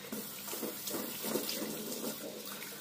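A kitchen tap runs into the sink while it is cleaned after washing dishes, a close, steady splashing stream that lasts a few seconds without a break.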